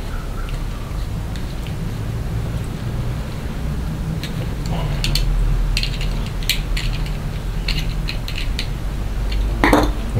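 Parts of a fast-charging torch are screwed together by hand, with faint threaded clicks and ratcheting rattles over a low background hum, close, ending in a brief clatter.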